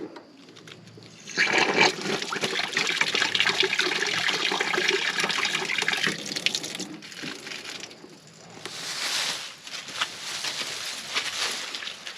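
A full outdoor water tank drains through a hose adapter before winter, with a steady close rush of flowing water that surges, briefly dips, then gushes again.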